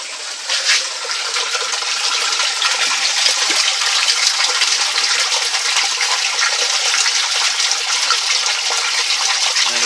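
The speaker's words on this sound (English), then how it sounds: "You can hear it siphoning there now." Water rushing and gurgling steadily as a bell siphon drains a tank, a continuous loud broadband flow with no talk.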